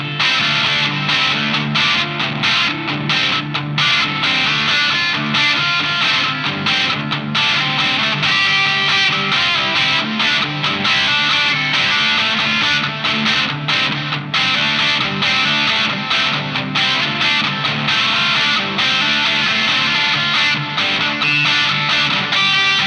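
EarthQuaker Devices Silos delay pedal in tape mode on an electric guitar, a dense, sustained wall of chords with echoing repeats and a gritty, distorted edge, loud and continuous with no one talking.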